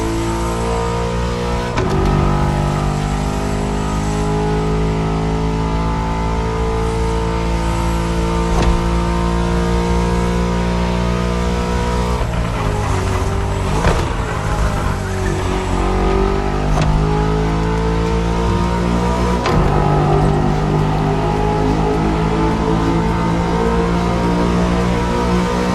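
The Touring Superleggera roars through a drive in The Crew Motorfest, its engine loud and close, revving up through gears with pitch climbing and dropping at shifts, a sustained harmonic growl throughout with no talking.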